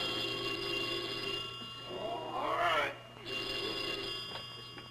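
An old telephone bell rings in a classic radio comedy show, a bright, jangling burst over a steady background hum. A voice briefly speaks.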